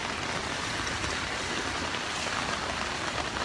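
Strong, fast-flowing floodwater in the aftermath of Typhoon Odette, a steady, dense rushing roar that stays loud and unbroken throughout, with no voices over it.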